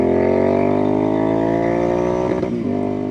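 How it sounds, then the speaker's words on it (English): A custom Royal Enfield INT650 motorcycle revs hard to its rev limiter, giving a loud, close, rising engine wail that holds at the top, stutters briefly against the limiter and then drops back. "Rev limiter."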